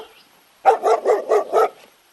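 A dog barks five times in quick, even succession, loud and close, with silence before and after.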